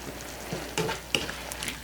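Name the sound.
browned ground beef sizzling in a skillet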